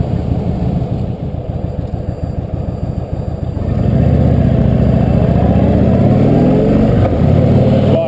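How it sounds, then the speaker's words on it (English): An Indian Chieftain motorcycle engine pulls away from traffic lights. It starts as a steady low rumble, then grows louder about halfway through as it accelerates, with its pitch rising and shifting as it picks up speed, close and loud throughout. "Launches very nicely. Torque of the motor just pulls away from the lights very pleasantly."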